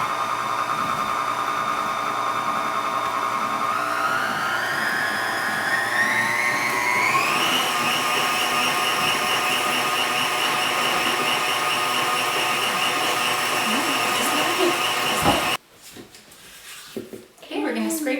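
An electric stand mixer whirs steadily through honey wheat bread dough, its motor pitch rising as the speed increases, loud and continuous before cutting off abruptly near the end, followed by faint handling noise.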